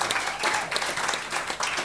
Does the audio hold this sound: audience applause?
yes